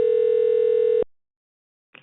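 A telephone dial tone after a disconnected call sounds as a loud, steady electronic hum for about a second, then cuts off to silence before a brief faint crackle of line noise.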